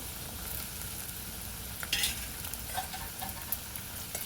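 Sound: frying eggplant with potatoes in oil and turmeric

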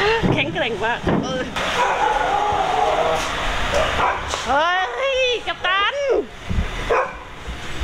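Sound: dog barking

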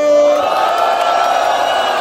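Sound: audience making noise to vote for MC duo

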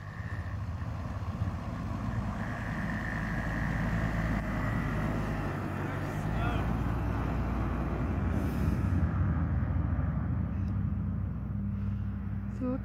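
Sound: car driving uphill in fresh snow without snow chains

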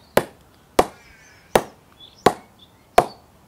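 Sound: CA Test Star cricket ball bounced on GM Maestro bat

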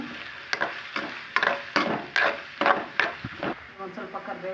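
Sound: onions frying and being mixed in hot oil

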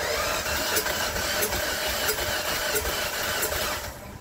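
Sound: Ford Fiesta engine cranking over

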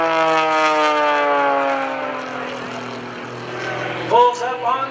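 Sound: MX-2 aerobatic airplane performing at airshow

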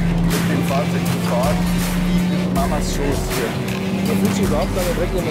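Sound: 2020 BMW M3 driving at full speed on racetrack

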